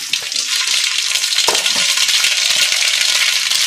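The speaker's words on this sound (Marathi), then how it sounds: "तेल आता गरम झालेलं आहे. आता यामध्ये 2 चमचे मोहरी टाकायचे आहेत." Mustard seeds sizzle loudly in hot oil for a vada pav filling, a dense continuous hiss with faint popping and crackling, close and steady with no talk.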